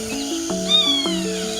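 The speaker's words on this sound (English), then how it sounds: "the rusty-spotted cat." A rusty-spotted cat, a tiny wild forest cat, gives a string of high, wavering mewing calls in close succession, clear and fairly loud over a steady tonal background.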